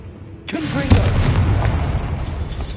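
Confringo blasting spell exploding in the video game Hogwarts Legacy, a sudden loud boom followed by a sustained rumbling crackle that fades slowly over a couple of seconds.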